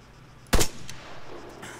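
A single loud rifle gunshot in the video game Arma 3 cracks sharply, then a short tail fades into low background noise, with a faint second report near the end.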